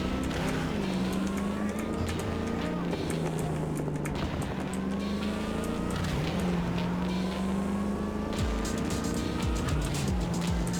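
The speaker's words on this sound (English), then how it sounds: "This car is impossible to drive." A hard-to-handle car driven in Cyberpunk 2077: Phantom Liberty, its engine droning loud and close throughout, rising and falling through repeated revs and gear shifts with scattered rattles and clatters.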